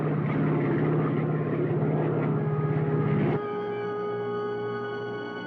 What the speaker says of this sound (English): Janice, we're losing altitude.